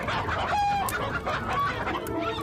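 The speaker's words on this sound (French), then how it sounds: "Je vais attraper ce gros coq-là." A large rooster clucks close by, a few short throaty clucks and calls in quick succession over faint outdoor background, with no talking.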